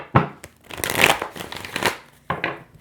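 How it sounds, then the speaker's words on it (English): Tarot cards are shuffled by hand in quick riffling bursts, crisp close papery flutters with short pauses between them and a final pair of snaps near the end. "Okay, I'm going to reshuffle."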